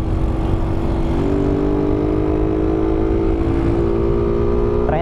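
A Kawasaki KLX150 motorcycle fitted with a swapped-in Raider 150 engine runs close by with a loud, steady drone, rising slightly in pitch right at the end; no one speaks.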